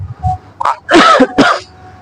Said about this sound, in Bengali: এই যে আমি কাশতেছি যেমন এইভাবে